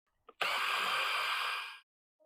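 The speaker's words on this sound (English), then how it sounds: "for the first part, I used the drill with a wire brush." A power drill fitted with a wire brush spins up after a brief tap and grinds steadily against rusty metal on a Subaru SVX for over a second, loud and close, then winds down to silence.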